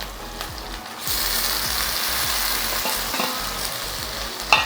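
Chopped tomatoes sizzle and fry steadily in a hot pan of oil while being stirred, with scraping and clinking of the spoon against the pan, and a sharper hiss near the end.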